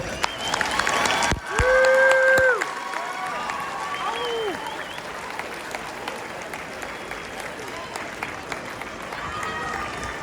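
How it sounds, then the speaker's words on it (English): An audience at a school opening event applauding after a speech, a steady wash of crowd clapping that carries on under brief voices and tonal calls near the start. "How about another round of applause for Mr. Ken?"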